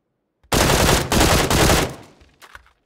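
Sustained burst of gunfire rings out suddenly and loudly for about a second and a half, then fades into trailing echoes and a few scattered later shots.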